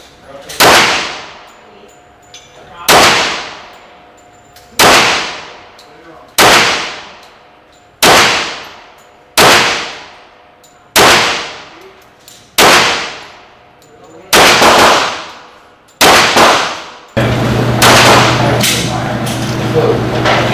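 A Rock Island Armory 10mm 1911 pistol fires a string of about ten loud, evenly spaced shots outdoors, each crack decaying with a ringing tail, ending in steady background noise.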